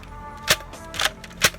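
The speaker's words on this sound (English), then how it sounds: "The Dark Sun Villanator has slam fire, which when you hold down the trigger and then you pump" Dart Zone Villanator toy dart blaster slam firing, three sharp snapping shots spaced about half a second apart, fairly close and standing alone without talk.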